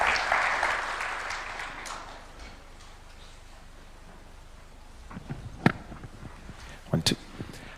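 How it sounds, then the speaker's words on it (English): A crowd gives a standing ovation after a speech at a Kenyan presidential event on reparations for victims of human rights violations. The loud burst of applause fades within about two seconds, followed by quieter scattered clicks and knocks. "this deserves another standing ovation and a clap"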